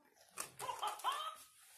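A short dog vocalisation, a couple of whiny, bark-like yelps close to the microphone, probably played during a special-education classroom activity about animal sounds.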